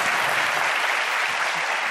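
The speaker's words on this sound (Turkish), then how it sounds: "seyirci niye alkışlıyorsun?" Dense studio audience applause on a Turkish comedy talk show, continuous and even from start to finish with no break.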